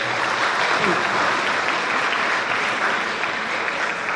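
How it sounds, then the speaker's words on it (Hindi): Audience at a science and literature festival in Rajasthan applauds loudly and steadily, a dense wash of many hands clapping without a break. "सभी के लिए जोरदार तालियां अपने आप बजाइए सबसे पहले।"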